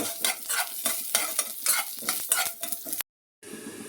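Cumin seeds, curry leaves and green chillies frying in hot oil, giving loud crackling spits and bursts of sizzle with stirring scrapes close up, cut by a short silence before the sizzle resumes more softly.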